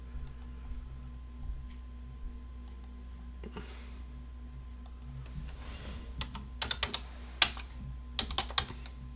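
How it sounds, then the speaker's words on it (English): Computer keyboard typing while entering chart labels, light scattered key taps at first over a steady electrical hum, building to quicker, louder clusters of clicks near the end. "I'll type them up in here."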